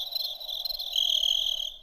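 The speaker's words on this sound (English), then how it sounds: "Crickets." Crickets chirp steadily in a high, continuous trill, fairly close and alone, with no voices.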